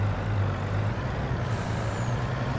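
A truck in Farming Simulator 22 runs with a loud, steady low engine rumble, and a hissing air-brake release comes in partway through, with no talk.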